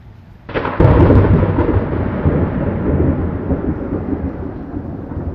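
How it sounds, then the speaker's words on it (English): Thunder during Hurricane Michael breaks in with a sudden loud crack, then rolls into a long, heavy rumble that slowly fades under steady storm noise. "here comes the thunder"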